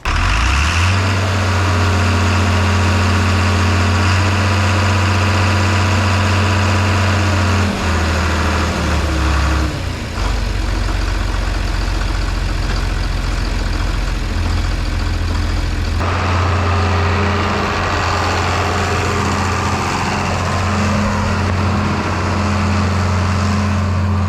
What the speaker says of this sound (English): we'll get this going, get the mower going